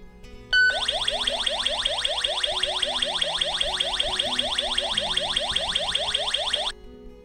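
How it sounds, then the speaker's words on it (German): A GSM alarm system's motion detector alarm sounds continuously for about six seconds, a fast repeating warbling chirp, loud and close, then stops abruptly. "Der Bewegungsmelder signalisiert Ihnen einen Bewegungsalarm."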